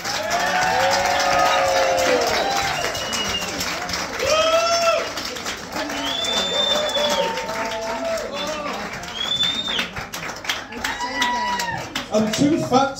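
Audience applause and cheering fill a live show crowd, a dense steady wash of clapping with whoops and shouts rising over it, loud and continuous throughout.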